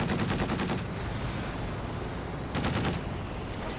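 An anti-aircraft half-track fires its machine guns in a Company of Heroes 2 match, two loud rapid bursts of automatic fire separated by a brief lull, with no talking.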